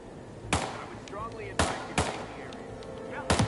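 Gunshots in the Hitman game, four or five sharp cracks spaced irregularly across a few seconds, two close together, over a quiet game backdrop with faint chirping tones.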